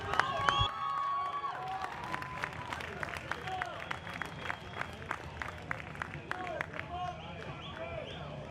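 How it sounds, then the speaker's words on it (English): Spectators at a swimming race cheer and applaud for a swimmer named Walt nearing the finish, a steady roar of crowd noise with repeated claps and shouts throughout, with announcer-style voices mixed in. "All right, let's get the crowd going for Walt."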